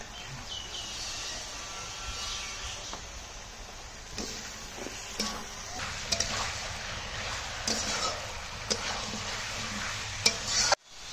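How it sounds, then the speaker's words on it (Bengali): Marinated meat in Kashmiri chilli spice goes into a hot pan and is stirred, giving a steady low sizzle with scraping and clinking of a spoon against the pan, close and continuous. "এবার মশলা দিয়ে যে মেখে রেখেছিলাম সেই মাংসটা দিয়ে দেবো।"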